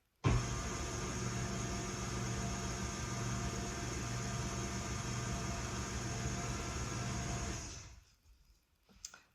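Stand mixer running on low, blending the dry ingredients for royal icing, a steady loud whirring drone that holds evenly for about eight seconds and then cuts off, leaving near silence with a small clink at the end.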